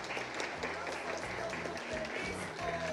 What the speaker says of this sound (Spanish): a nuestro hermano Rufino Chuquimia Flores, para quien pedimos un fuerte voto de aplausos.